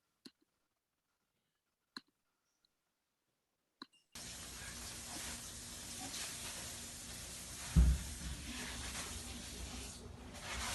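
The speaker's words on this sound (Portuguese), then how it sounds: "a esponja pegou fogo" A steel wool sponge burning in a chemistry experiment: a few sparse isolated clicks in near silence, then a sudden steady crackling hiss with one louder pop partway through.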